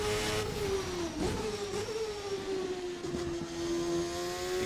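A turbocharged 980 hp 1999 Formula open-wheel race car engine in a racing game, held at high revs with a steady loud whine that dips slightly and recovers, with faint shifts and boost sounds running throughout.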